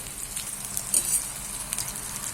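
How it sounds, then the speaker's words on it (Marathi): Bitter gourd pan-fries in oil in a kadhai, giving off a steady, close sizzling hiss with no talk. "तेलामध्ये आपल्याला असं कारलं भाजून घ्यायचं"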